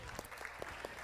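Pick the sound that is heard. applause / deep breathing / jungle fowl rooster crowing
applause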